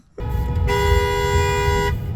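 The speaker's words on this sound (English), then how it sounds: "My best part was all the horn honking in the tunnel" A single sustained car horn blast over a loud rumbling engine, echoing in a tunnel on the Zion - Mt Carmel Highway, close and lasting about a second.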